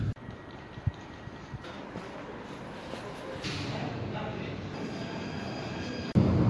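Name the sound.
classic train multiple unit running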